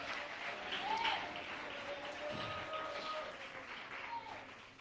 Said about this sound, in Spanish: Yo no sé si alguien puede aplaudirlo esta noche